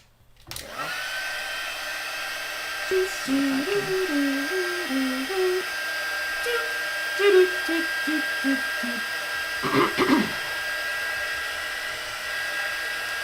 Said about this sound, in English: So now we're going to heat emboss this.